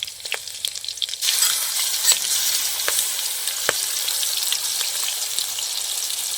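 Ground mustard and poppy seed spice paste hits hot oil for an eggplant dish, breaking into a steady, close sizzle of frying with scattered light crackles and stirring clicks.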